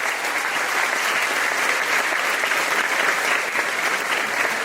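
A church congregation at a Catholic priest's preaching service bursts into loud, sustained applause, a dense, even roar of many clapping hands that stays full and steady from start to finish.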